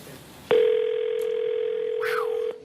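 Telephone tone sounding while a call is placed, a steady electronic tone held for about two seconds, loud and close, with a voice briefly speaking over it near the end.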